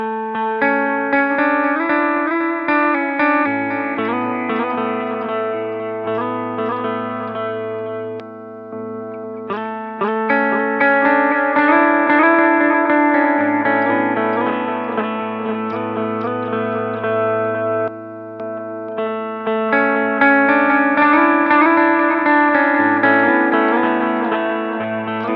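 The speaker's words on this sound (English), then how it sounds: "So here's the digital delay first." Electric guitar played through a Fender Hammertone Delay pedal set to digital delay mode, clean repeating notes and chords trailing into echoes, steady and loud with brief pauses between phrases.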